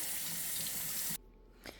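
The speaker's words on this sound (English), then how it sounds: "now all I'm doing is just pouring some water on the side, just so the bottom of that pot will just come sliding out" Water pours steadily from a tap onto the side of a cooking pot of saffron rice, a loud, even rushing splash that cuts off abruptly and leaves a brief quiet drip.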